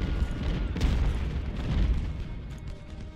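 Artillery and musket fire in the Ultimate General: Civil War video game, a dense rumbling barrage of booms and crackling shots with one sharper report near the start.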